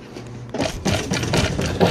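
Industrial upholstery sewing machine stitching a double-piping decorative seam on a seat, running with a steady dense mechanical whir after a quiet start, close and continuous.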